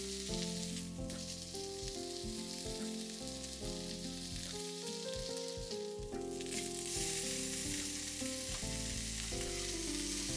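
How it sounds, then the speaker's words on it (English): Fatty side of miso-marinated pork sizzles loudly and steadily in a hot pan, a dense continuous frying crackle throughout with occasional shifts as the meat is moved, no voices. "this part is cooked, so I heat the fat part mainly"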